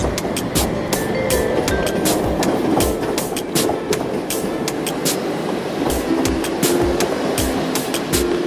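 A toy train running along its track, a fast, steady clicking and clattering close by, with regular sharp ticks over a continuous rolling whir.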